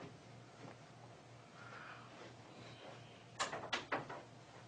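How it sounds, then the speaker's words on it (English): A cable knocks against a door during a night-time ghost hunt in Los Angeles, giving a few quick dull thuds in close succession after a quiet hiss of room tone. "that was just the cable right now against the door."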